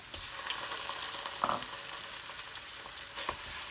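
Tomato puree frying in a pan, a steady broadband sizzle with occasional soft stirring clicks and scrapes, moderately quiet and close, with no voices.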